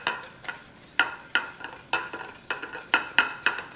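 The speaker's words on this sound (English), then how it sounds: "I'll just keep mixing it." A utensil stirs Kahlua coffee pie mixture in a bowl set over ice, tapping and scraping against the sides in a quick, regular rhythm of soft clinks, close and fairly quiet.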